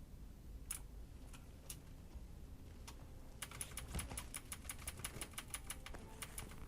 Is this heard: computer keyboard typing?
yes